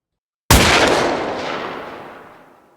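A single sharp, loud gunfire volley crashes in after a moment of silence, then its reverberation decays slowly over about two seconds.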